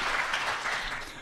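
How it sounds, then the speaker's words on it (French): Audience applause at a talk on organ transplantation in Canada: a continuous, moderately loud patter of many hands clapping with no pauses. "On l'applaudit, n'est-ce pas?"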